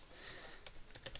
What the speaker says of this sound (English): So I'm going to just type in the code.